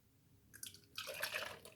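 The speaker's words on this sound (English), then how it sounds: "I'm going to carefully pour the crème anglaise into the measuring cup" Crème anglaise poured into a measuring cup, a faint brief liquid trickle and splash that swells after a quiet start.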